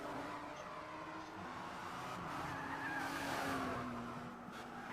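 A race car engine in Gran Turismo 6 holds full throttle, a steady sustained roar with a rising pitch and faint tire noise throughout, continuous and fairly loud with no talking.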